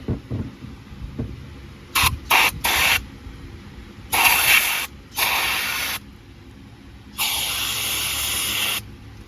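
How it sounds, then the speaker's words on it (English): Brake cleaner sprayed into a car's brake caliper bracket in short and longer hissing bursts, about six sprays of varying length, loud and close, with no talking. "So I'm just gonna take a little bit of brake cleaner, clean it out."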